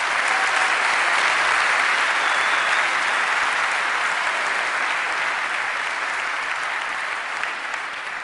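Steady, loud applause from a large audience at a TEDxOPorto talk in Porto, a dense wash of clapping that holds evenly for about eight seconds before easing slightly at the end.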